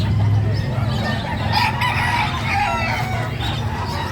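Chickens clucking and squawking nearby, a busy cluster of poultry calls over a steady background hum, with a few sharper cries standing out.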